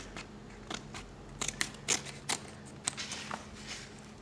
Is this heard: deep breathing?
no